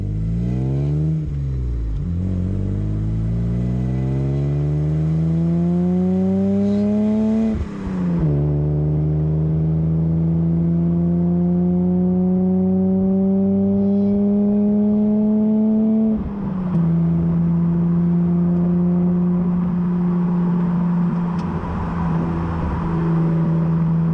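A BMW E30 Touring drives on winding UK country roads, its engine rising in pitch through the gears with two clear shift breaks, loud and close, steady and without talk.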